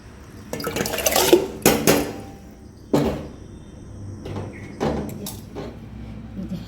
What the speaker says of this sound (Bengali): চালটাও নিয়ে চলে এলাম, এবার এটাকে ধুয়ে একদম ভিজিয়ে দেবো।